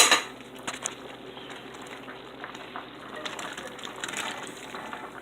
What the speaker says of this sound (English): we're going to add our pork back into the pan